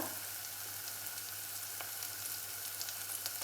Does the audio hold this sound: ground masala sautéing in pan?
yes